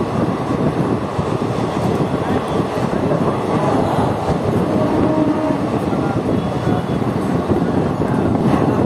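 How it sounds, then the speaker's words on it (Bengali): Kaviguru Express, the Azimganj–Howrah passenger train, running at speed: a steady, loud rumble of wheels and carriage noise, continuous throughout with no break. "দেখতে পাচ্ছেন আমাদের ট্রেন এখন খুব ভালো স্পিডে ছুটে চলেছে"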